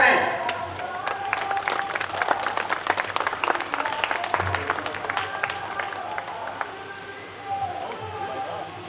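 An audience at a party workers' meeting claps in a lively burst of applause, loud and dense at first and gradually thinning out.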